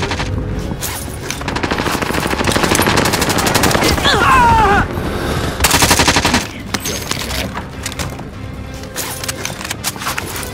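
Rapid automatic gunfire from a Warzone battle royale match, dense bursts and volleys rattling continuously under game effects and faint voices, with a sharp crackling peak midway before the shooting thins out.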